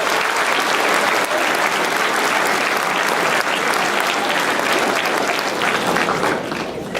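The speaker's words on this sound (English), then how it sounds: "So let's just get a round of applause for all of that." A crowd applauds at a high school winter sports awards night, dense sustained clapping filling the room for several seconds before starting to thin out at the end.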